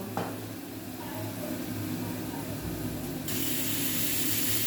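Vegetables and masala for pav bhaji sizzling in hot oil in a pan, a steady close spitting hiss that swells louder toward the end.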